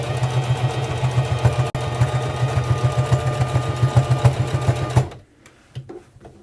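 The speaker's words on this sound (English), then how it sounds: "So I rethreaded the machine one more time." A sewing machine runs steadily at speed, stitching hare ears with a fast, even mechanical pulse, loud and close, then stops abruptly near the end, leaving faint room noise.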